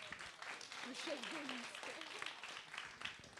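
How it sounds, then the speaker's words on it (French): An audience claps for a correct answer at a cultural quiz night, with steady, moderate applause lasting a few seconds while a voice talks over it. "C'est une bonne réponse, on peut l'applaudir bien fort."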